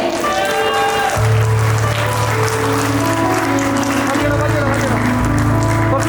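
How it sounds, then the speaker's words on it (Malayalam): Wedding guests applauding the newlyweds Amal and Susmi, a soft wash of clapping beneath loud music and voices, with a low droning tone throughout. "നമുക്ക് എല്ലാവർക്കും നിറഞ്ഞ മനസ്സോടെ അവർക്കൊരു നിറഞ്ഞ കൈയടികൾ കൊടുക്കാം"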